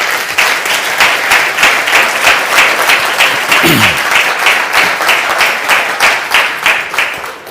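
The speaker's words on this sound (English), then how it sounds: "A round of applause for you." An audience at a DXN Europe leadership camp gives steady, loud applause: dense, continuous clapping from a crowd that holds at an even level for several seconds, with a brief voice rising faintly underneath.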